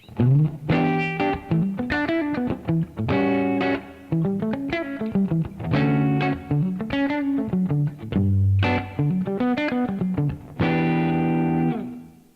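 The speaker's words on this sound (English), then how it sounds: "what I'm doing with my right hand, I am muting it a little bit so it gives a little bit of a funk in there" A guitar plays funky arpeggios and chords with right-hand palm muting, in short rhythmic bursts of plucked notes that pause briefly between phrases, clear and up front.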